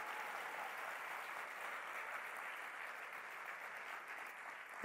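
A crowd applauds steadily for several seconds, a dense even clatter of many hands clapping, ending with a brief louder burst.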